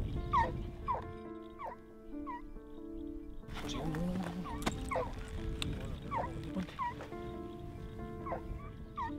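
Hunting dogs during a Spanish monteria hunt yelp, whimper and bark in short repeated bursts at mid distance, with people talking over the outdoor background.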